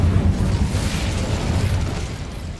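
Incendio fire spell blast from the Hogwarts Legacy video game, a loud sustained rumbling burst with heavy low-end roar that holds steady for a few seconds before easing off slightly.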